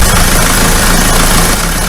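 A diesel car engine idles steadily during diesel injector cleaning with a Wynn's cleaner, a constant low rumble with a slight knocking vibration, close and loud throughout with no pauses.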